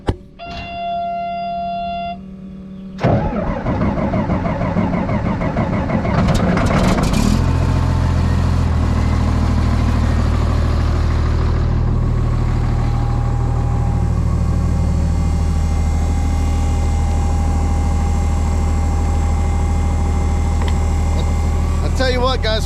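An old bulldozer on a pond dam repair job cranks and fires up, its heavy diesel catching abruptly and settling into a loud, steady, deep idle rumble that runs on close by.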